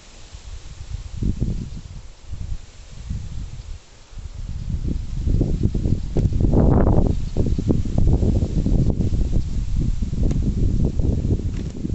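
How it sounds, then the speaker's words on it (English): Gusty wind buffets the microphone in low, rumbling surges that rise and fall, growing stronger and more constant midway, with no voices. "it's so windy"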